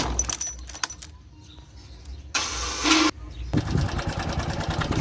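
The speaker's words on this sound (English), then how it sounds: "let me just crank up the motorcycle" A Bajaj Boxer X150 2020 motorcycle with a piston fault is cranked and starts, its engine running loud and close with a busy, rattling knock; a burst of noise precedes it, then steady running fills the rest of the clip.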